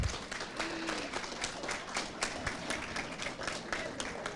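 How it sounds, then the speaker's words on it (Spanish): A crowd at a panel in Sonora applauds Dr. Góngora, a lively patter of clapping hands with distinct sharp claps over a steady wash, moderately loud and close, lasting the whole stretch. "Un aplauso a la doctora Góngora."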